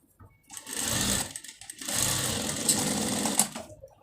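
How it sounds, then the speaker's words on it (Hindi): A sewing machine stitches a seam through foam for a homemade foam mop pad, running steadily and close up for about a second, pausing briefly, then whirring on again with no talk. "ऐसे इसको हम एक सिलाई लगा देंगे। ये हमने सिलाई लगा दी है इसके ऊपर।"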